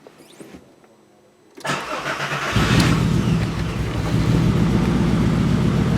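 A 2002 Volkswagen Jetta VR6 with fuel injector circuit faults and a misfire cranks briefly and then starts. The engine catches into a loud, steady running roar that keeps going to the end.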